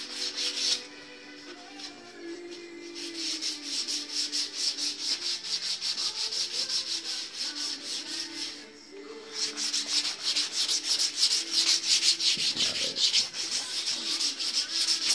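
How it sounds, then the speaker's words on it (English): A belt sander grinds against PVC in a rapid, rhythmic rasp, pausing briefly twice before resuming at full loudness. "That's the only reason I'm sanding this down a little bit more."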